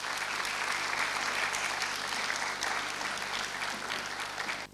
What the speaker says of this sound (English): With a round of applause, let's welcome Taaka Awori.